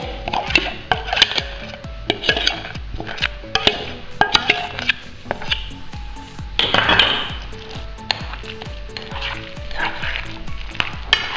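A spoon stirs thick rice pudding with raisins, vanilla, butter and yolk beaten with sugar in a pot, making a steady run of close, wet scrapes and soft knocks with a faint sizzle beneath.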